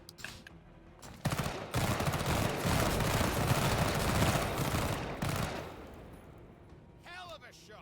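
Video game gunfire in a dense burst of rapid shots and blasts, loud through the middle and fading out, with quieter sounds before and after.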